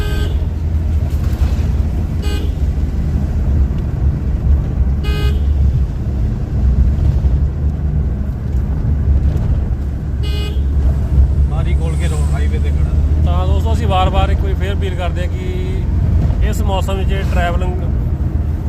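Fast cars and a tractor passing on the Bathinda–Talwandi road in Punjab, a steady loud traffic roar with wind buffeting, brief horn toots midway and through the final seconds, with people talking underneath.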